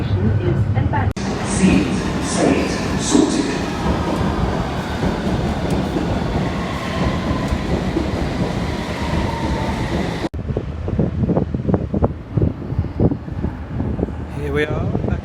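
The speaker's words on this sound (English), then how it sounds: "we're just arriving at Waterloo, which is where the train terminates" A London Underground train rumbles and roars loudly through a tunnel under the River Thames with rushing wind noise, then slows with rattling carriage sounds near the end as it arrives at Waterloo.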